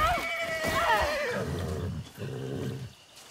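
In Far Cry 6, a horse gives a loud, close whinny that rises and wavers, then drops into lower, snorting neighs.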